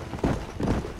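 Horse hooves clip-clop in the Western video game Red Dead Redemption, two dull thudding footfalls close and loud over a low rumbling game background.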